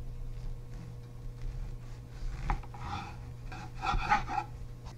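A garlic clove is rubbed across toasted baguette slices, giving a soft, close, rasping scrape in short strokes over a low steady hum.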